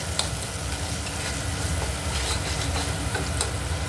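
Spice paste (masala) for begun bharta fries in oil with a constant, close crackling sizzle, with bits of stirring and no talk.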